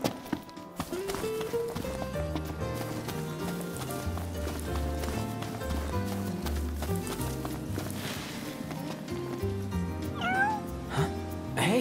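A cat meows several times in Final Fantasy XV, with soft short calls layered over game music and a rhythmic clip-clop of hooves.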